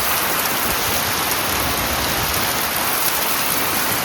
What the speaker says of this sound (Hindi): ये क्या हो गया 1 मिनट में, बारिश और तूफान दोनों इकट्ठे